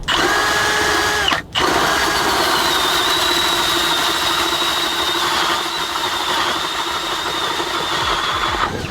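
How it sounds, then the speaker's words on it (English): A powered auger bores a hole through lake ice for ice fishing, its engine droning loud and steady with one brief pause early on before it runs on. "Okay, hole is drilled."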